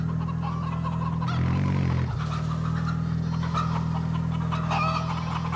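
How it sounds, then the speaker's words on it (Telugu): Chickens in the racing game Forza Horizon 5 cluck and squawk in a short flurry over a steady low engine hum, fairly loud and close, with a rooster-like call among them. "కోళ్ళు కోళ్ళు కోళ్ళు"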